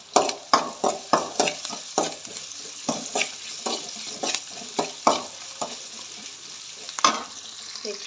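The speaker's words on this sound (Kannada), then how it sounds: "ಇದು ಪರವಾಗಿಲ್ಲ, ಇದು ಚೆನ್ನಾಗಿ ಫ್ರೈ ಆಗಲಿ." Sprouted horse gram stir-fry with greens and curry leaves sizzles in a pan while a spoon stirs and scrapes in repeated, fairly close strokes over a steady frying hiss.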